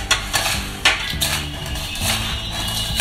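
Sugar is stirred into a ladoo panjiri mixture in a pan, making repeated scraping and clinking of a spoon against metal in an uneven rhythm, close and fairly loud.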